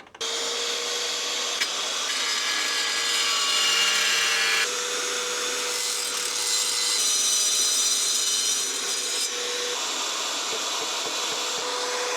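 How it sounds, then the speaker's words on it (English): A wet saw cuts notches into floor tile, a loud, steady whining grind held for several seconds with slight shifts in pitch as the blade works through, close and uninterrupted by talk. "we gotta cut some notches. That's all I'm gonna use the wet saw for"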